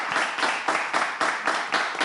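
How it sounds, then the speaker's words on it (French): Studio audience applause for a guest on a French-language TV talk show, a steady burst of clapping that swells in even, rhythmic waves, fairly close and loud. "On doit encore l'applaudir"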